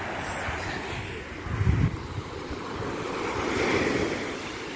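Mediterranean Sea waves roll and wash onto the shore with a broad, steady roar, swelling twice, with wind rushing across the microphone.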